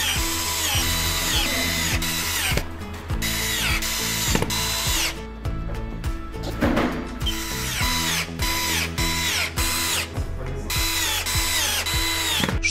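A power screwdriver drives self-tapping screws through metal corner brackets into the side rail of a 160x200 cm double bed frame. Repeated close, loud whirring bursts start and stop in quick succession, with no talking.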